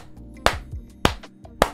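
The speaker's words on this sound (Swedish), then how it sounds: "Det här måste vi applådera för" Three sharp, evenly spaced hand claps ring out alone in a quiet room, each a crisp close snap with a short decay.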